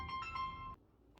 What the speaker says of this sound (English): Sorry about that phone ringing.